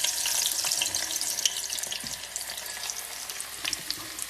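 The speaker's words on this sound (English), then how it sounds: "put all the sliced garlic into the nice hot oil" Sliced garlic hits hot oil and fries with a dense, bright sizzle that stays loud and steady throughout, with small crackles and pops and no voices.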